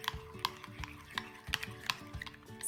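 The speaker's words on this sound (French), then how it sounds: "on finit par mélanger une dernière fois" A spoon stirs Big Mac sauce with yellow mustard in a bowl, making a series of light clicks and scrapes against the sides at an uneven rhythm, close and fairly quiet.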